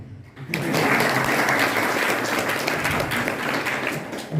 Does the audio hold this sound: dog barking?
no